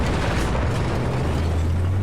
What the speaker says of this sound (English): You can just hear the explosions, and believe me, if you have a headset, it is a very loud game.